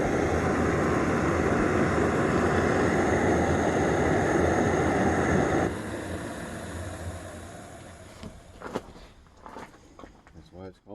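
Jetboil camping stove boiling water at a campground, a loud steady roaring hiss that drops off partway through and gives way to quieter bubbling, clicks and faint handling sounds.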